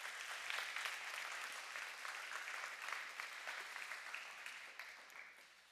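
A church congregation at a Christmas service applauds a newly confirmed member, with dense, steady clapping that fills the room and fades slightly toward the end.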